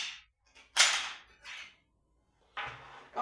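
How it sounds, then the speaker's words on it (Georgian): Barrel pulled from an Armsan Phenoma inertia-system shotgun: several short, loud metallic clacks and scrapes spaced by brief silences, close at hand. "ახლა ლულა გავაძროთ."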